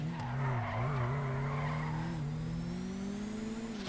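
Car tires screech continuously while drifting in the GTA video game, a sustained wavering squeal over a steady engine drone, loud and close with no talking.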